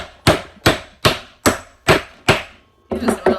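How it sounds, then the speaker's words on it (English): A heavy hammer strikes a metal punch resting on a metal base while stamping a leather concho, six sharp loud whacks at an even pace, then a quicker cluster of softer knocks, close and with no voices. "I'm just going to whack it through."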